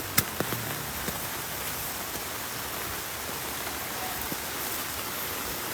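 Steady rain pours down on Gunung Salak, a dense broadband hiss filling the whole stretch, with a few sharper drops or taps near the start and no voices.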